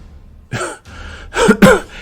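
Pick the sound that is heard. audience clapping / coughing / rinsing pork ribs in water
coughing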